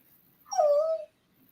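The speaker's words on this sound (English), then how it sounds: "He heard your dog" A single high, drawn-out dog whimper rises and falls for about half a second in a quiet room, fairly close and clear with no talking.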